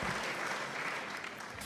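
A brief, continuous wash of applause for a podcast guest, dense and even, with no voices.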